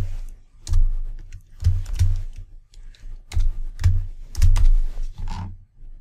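Code being typed on a computer keyboard, with bursts of keystrokes coming in uneven clusters and short pauses between them, close and fairly loud.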